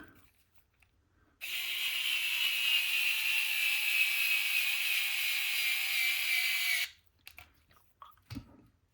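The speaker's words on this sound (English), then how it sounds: "good little drill" A small power drill, used while building the front axle of an Axial SCX10 Pro rock crawler, whirs steadily for about five seconds with a slowly falling pitch, then cuts off, followed by a few faint handling clicks.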